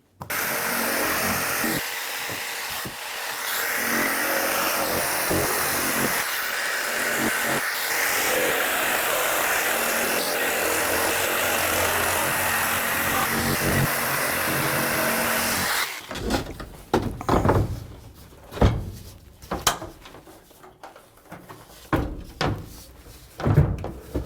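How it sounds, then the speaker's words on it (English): A jigsaw cuts through a van headliner panel during a van conversion: about sixteen seconds of continuous, loud buzzing cutting, then the saw stops and scattered knocks and handling thuds follow. "Now I just have to cut this out with my jigsaw and slide that thing in there"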